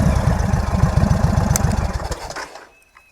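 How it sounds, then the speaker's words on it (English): An engine revs with a pulsing, throbbing roar as the clutch is released for a launch, loud and close, then quickly fades away, leaving near silence. "RPMs up, clutch out, left foot up and go."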